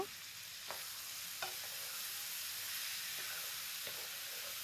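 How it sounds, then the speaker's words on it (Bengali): Turmeric being stirred into an olive pickle mixture in a hot pan, a steady hiss of frying with a few soft scrapes of the spoon, close and continuous. "এবার একটু নেড়ে দিচ্ছি মিক্সড করে নেব"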